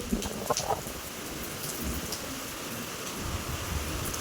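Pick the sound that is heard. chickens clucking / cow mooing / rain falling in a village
rain falling in a village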